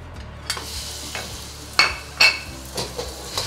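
Quarter pound of ground pork sizzles in peanut oil in a hot wok, with a steady frying hiss broken by several sharp scraping stirs and clinks of a spatula, close and loud.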